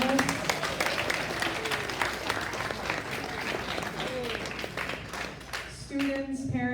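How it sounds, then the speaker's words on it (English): Sustained audience applause after a panel discussion, moderately loud and even, fading slightly toward the end as a voice begins speaking over it. "one more round of applause for Darren and our panelists"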